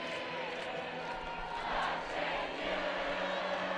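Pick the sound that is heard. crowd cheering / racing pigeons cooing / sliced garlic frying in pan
crowd cheering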